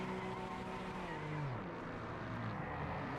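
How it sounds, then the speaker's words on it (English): Race cars roaring past in Project Motor Racing, a steady loud engine drone with pitch sweeps and tire squeal as a couple of cars come through, continuous and close. "A couple of cars coming through."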